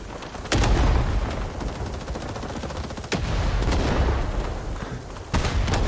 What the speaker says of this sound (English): There's so many nades!